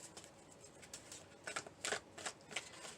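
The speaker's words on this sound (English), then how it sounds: "I'll shuffle once for each" Oracle cards being shuffled for a reading, a soft papery riffling in light bursts, a few louder flicks near the end, close and alone with no talk.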